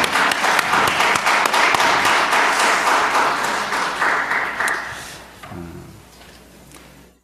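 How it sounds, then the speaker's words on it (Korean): A church congregation applauds together during a Sunday worship service, a dense, loud burst of clapping that holds steady for several seconds, then thins out and fades away toward the end. "우리 집사님께 격려의 박수 한번 드리겠습니다"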